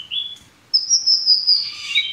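A bush lark, or branjangan, sings up close and loud: a short high chirp, a brief pause, then a long bright trilling phrase of rising and falling notes with no voices.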